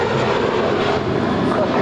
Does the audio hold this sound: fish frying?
no